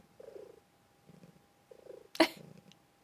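A female cat purrs close up in a quiet room, with steady rhythmic rumbling swells about every second as she breathes in and out. A brief sharp rustle or snort breaks in partway through, and no one speaks.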